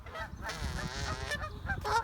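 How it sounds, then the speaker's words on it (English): Nearby geese give a few honks in quick succession, a brief burst of nasal calls rising toward the end. "Look at these geese."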